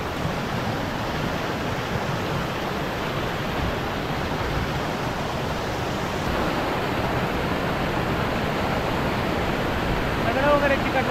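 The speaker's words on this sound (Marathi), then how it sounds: "माझ्या मागं बघा पाण्याचा फ्लो खूप जास्त आहे." Fast-flowing stream water at Tamhini Ghat during monsoon, a steady broadband rush that stays loud and unbroken throughout, close by with no pauses.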